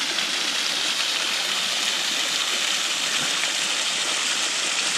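Dusiołek waterfall and mountain stream in the Beskid Mały mountains, a constant loud rushing hiss of falling and flowing water, close and steady throughout with no talk.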